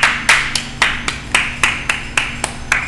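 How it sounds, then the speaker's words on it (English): Slow, evenly spaced single claps, about ten in under three seconds, each sharp and close, with a low steady hum underneath and no talk. "Clap for me, good rap."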